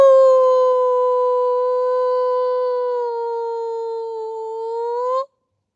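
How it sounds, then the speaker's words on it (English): A single long, steady howl at night carries for about five seconds and rises slightly at the end before it cuts off, clear and prominent with no other sound. "Let's see if we can get the howl back at us."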